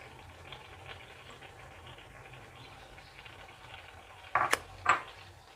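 A spoon stirs khoya into carrot halwa in a cooking pan: a quiet, low scraping bed, then two short, sharp metallic clatters near the end.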